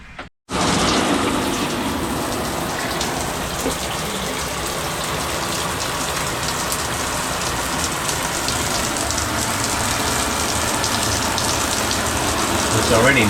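Hot water pours steadily into a clogged RV drain, a constant loud gushing splash that starts abruptly and runs without a break.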